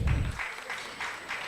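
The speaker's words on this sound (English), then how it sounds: "On applaudit." Brief audience applause for a speaker at a Dakar symposium on women in democracy, a steady wash of clapping that follows a low thump at the start.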